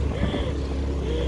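A motorcycle carries riders up a mountain trail on Mount Papandayan, its engine a steady, near, rumbling drone throughout.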